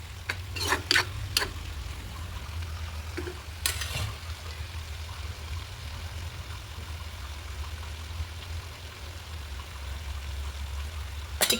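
Prawns sauté and sizzle in a pan with spices on a gas stove, a steady low frying hiss broken by a few sharp scraping strokes of the stirring spoon near the start, no voices.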